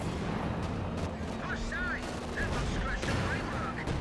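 Artillery barrage fire in the Company of Heroes strategy game: a steady, dense rumble of overlapping distant booms and gunfire, with brief whistling game effects and faint voice chatter underneath.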